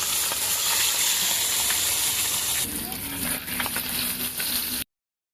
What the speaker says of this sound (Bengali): আমি কড়াইয়ে তেল দিয়ে দিয়েছি এবার এতে দাম জিরে দিলাম আর তেজপাতা দেওয়া হলো